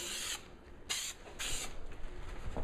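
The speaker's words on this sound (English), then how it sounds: "Gonna spray it up." Three sharp hissing bursts of spray adhesive from an aerosol can, close by, with brief pauses between them, applied for a Victory Vision motorcycle trunk liner.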